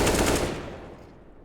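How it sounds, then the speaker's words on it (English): A headshot gunshot in CS:GO on Dust2, a single sharp loud crack with a rapid burst of following reports that decay quickly into silence. "Nails the headshot."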